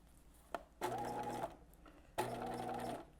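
Sewing machine stitching a skirt seam, two short bursts of rapid mechanical whirring with a click before them, close and fairly quiet, no talk.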